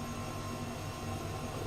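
An Airbus H135 helicopter in a flight simulator lifts off at Heathrow, its turbine and rotor making a steady, dense low drone with a high whine, loud and unbroken with no talking.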